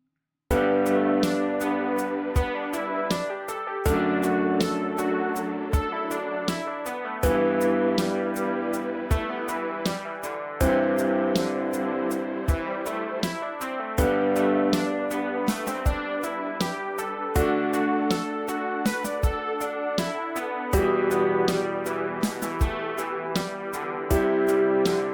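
An unfinished electronic music track, a dense, steady mix of layered synth chords and sharp percussive hits running continuously at full level, with no voice over it.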